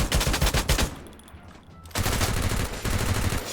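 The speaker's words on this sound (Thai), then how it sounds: "เมื่อกี้มียิงมา" Rapid bursts of automatic gunfire from an MP5 submachine gun in a shooter game, a loud close volley, a short pause with faint background, then another sustained burst.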